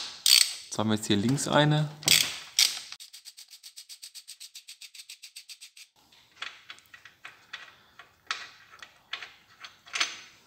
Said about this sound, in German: Als nächstes werden wir jetzt die Getriebeschrauben unten vom Getriebe lösen.